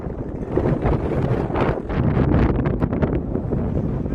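Strong wind buffets the microphone at a non-league football ground, rumbling in heavy gusts that swell and ease across the whole stretch, with no one speaking.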